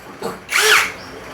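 A power drill gives a short high whine that rises and fades after a brief earlier buzz, close by and fairly loud.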